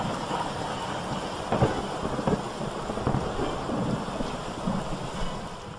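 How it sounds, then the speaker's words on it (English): Rain patters on the roof of an old barn in a heavy, unbroken wash of sound, with gusty rumbles and occasional thumps in a dense, loud storm. "only heard the rain pattering on the roof of the old barn"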